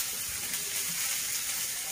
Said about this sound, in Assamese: তেলতে নহৰু পিঁয়াজ দি থেতালি লৈছোঁ